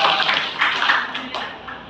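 A classroom group claps together in a burst of brisk applause that rises and fades in waves, with a voice talking over it.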